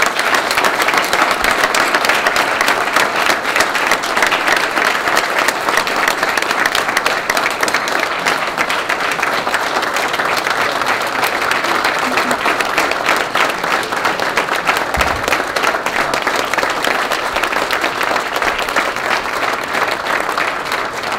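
A large audience at a benefit dinner applauds continuously and loudly, a dense wash of clapping that holds steady without a break throughout.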